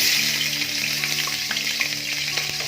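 Garlic and ginger paste fries in oil in a kadai wok for Mongolian chicken, a loud, close, continuous sizzle with light stirring clinks and spatter, no talking.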